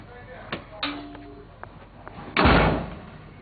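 A smaller door swings shut under a door closer, with light knocks and a squeak of hardware before a firm latching thud near the end, close and clear over faint room noise.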